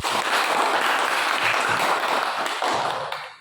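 A classroom of students applauding for Novi, a short and lively round of clapping that holds strong and then fades at the end.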